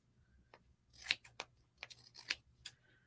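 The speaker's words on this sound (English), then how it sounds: "The first cut I'm going to make is going to be to the size of the insert for the frame." Scissors snip through fabric in a craft project, cutting a piece to fit a frame insert for a pin cushion; several crisp, close cuts come in short bursts with pauses between them.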